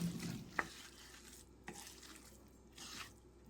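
Eggplant bulgur pilaf stirred in a pot, quiet close scraping and rustling of grains with a small clink of the utensil near the start and soft sweeps after, faint and alone.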